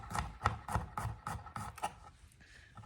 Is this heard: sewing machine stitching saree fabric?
no